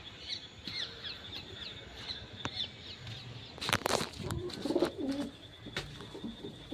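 Pigeons in a new cage coo softly nearby, with scattered chirps and a brief burst of wing flapping partway through.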